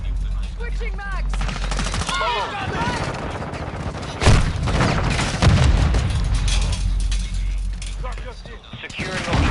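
Rapid automatic gunfire and heavy booms in a Call of Duty Modern Warfare 2 multiplayer match, dense bursts with shouted voice callouts layered over the shooting.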